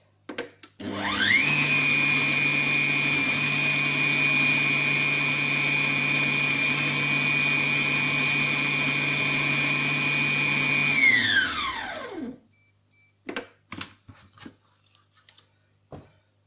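A Compact Cook Pro food processor chopping ingredients for tuna rillettes runs as a loud, steady motor whine for about ten seconds, then spins down, followed by a few scattered clicks and knocks.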